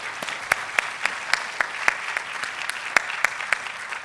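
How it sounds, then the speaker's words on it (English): A crowd at a Black History program at a community college claps in a fairly quiet, sparse round of applause, with individual sharp claps standing out against a softer background. "Let's give Pat and her team a round of applause."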